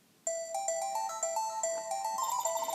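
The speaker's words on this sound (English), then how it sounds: "Oh, do you hear that? It's a phone going off." An electronic phone ringtone from the video game Phoenix Wright: Ace Attorney plays a bright, repeating melody of short tones, clear and alone for about two and a half seconds.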